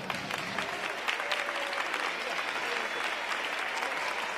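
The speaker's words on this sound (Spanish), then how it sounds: "Vamos a recibir con un fuerte aplauso." Audience applause fills a municipal music school concert hall in Antequera, a dense, steady wash of many hands clapping close by that holds at a constant level throughout.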